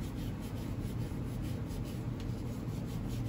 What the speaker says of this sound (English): give that a clean with the steel wool